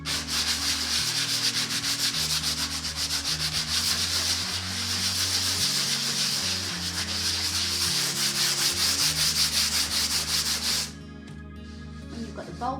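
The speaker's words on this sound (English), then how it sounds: "When the filler's dry, it's time to sand it back." Dried filler on plasterboard sanded back by hand makes a loud, close rasping scrub in quick back-and-forth strokes, continuing steadily before stopping abruptly near the end.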